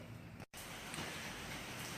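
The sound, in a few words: rain falling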